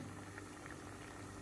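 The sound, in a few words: green chickpea curry boiling in a pot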